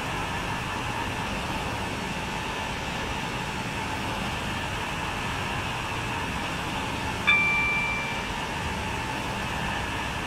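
Steady, broad rumble of a slow express train passing nearby, holding level throughout, with a brief tonal squeal partway through.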